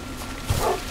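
Dog in the Minecraft video game giving a short, muffled bark or yip in a brief burst midway, fairly quiet over a steady background hum.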